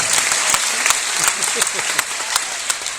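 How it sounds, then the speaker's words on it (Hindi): Loud, vigorous applause from a seminar crowd asked to clap hard, a thick burst of many hands with sharper individual claps standing out, continuous for a few seconds. "सारे लोग एक बार जोरदार तालियां बजाएं पहले, ताकि सबका नींद खत्म हो जाए।"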